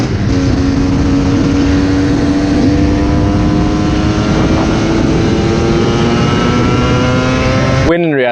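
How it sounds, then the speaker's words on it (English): An old two-stroke bike engine with an out-of-tune carburetor bogs, making a loud, continuous, close buzzing drone with steady harmonics until it cuts off at the end. "You've just gotten yourself an old new bike, but it's not running right and it's sounding like this."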